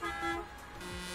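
A truck horn in the Euro Truck Simulator 2 game sounds a short, flat toot that fades into continuous road and engine noise, no talk during it.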